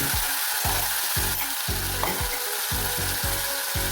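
Onion, green chilies, curry leaves and tomatoes sauté in a pan for a Tamil paruppu kuzhambu, with steady sizzling broken by regular scraping strokes of a spatula, roughly two per second, close and loud with no talk.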